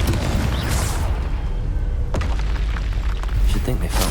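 A Confringo fire spell explodes during a Hogwarts Legacy zombie fight, a loud, dense boom with a rumbling low end. Crackling bursts and game effects run continuously under a spoken spell name.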